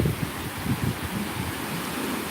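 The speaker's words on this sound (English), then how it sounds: "Ooh, it's getting kind of windy." Strong Hurricane Florence wind roars and buffets close to the microphone in a continuous rumbling gust with no pauses.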